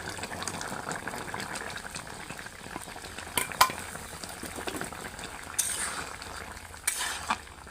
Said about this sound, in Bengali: তরকারিটা এখন ভালো করে ফুটে গেছে